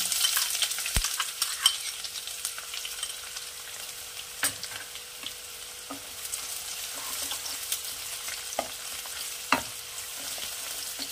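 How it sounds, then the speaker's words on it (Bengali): Chopped onion and panch phoron fry in hot oil, giving a steady close sizzle broken by occasional clicks and scrapes of stirring, with no speech. "হালকা ভেজে নেব।"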